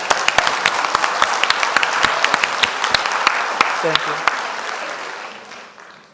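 Audience applause at a live artist talk with sculptor Thomas J Price at the Kunsthal, a dense round of clapping that fills the room and fades out toward the end, with a brief spoken thanks over it.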